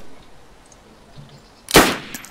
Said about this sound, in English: there's fucking gunfire everywhere